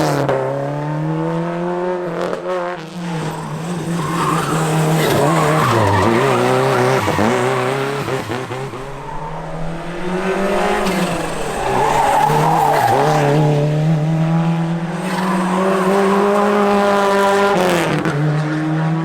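A rally car sliding loosely around a track, with long, loud, wavering tire squeals over a continuous engine drone that rises and falls through repeated skids, close and sustained.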